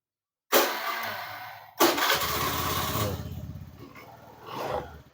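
A Honda Beat FI scooter engine is started twice in a row. The first attempt catches briefly, then a second start settles into a sputtering idle that fades toward the end, close by.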